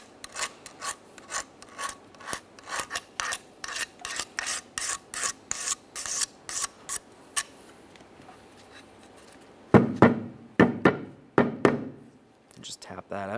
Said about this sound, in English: we'll use a flat blade razor, give it a quick scraping, ensuring there's no debris